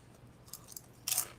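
Crunchy sweet potato chips are chewed close to the microphone, with a few short crisp crunches, the last one loudest, in a quiet room.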